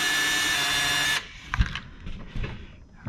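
Power drill whirring steadily for about a second while undoing screws on a Gen 1 Rustler 4x4 VXL RC car chassis, then stopping, followed by faint clicks and handling clatter of parts.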